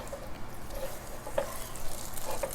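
A hot almond toffee mixture in a pan sizzles and bubbles softly while being stirred, with faint scraping and a few brief clinks of the utensil against the pan, and no talking.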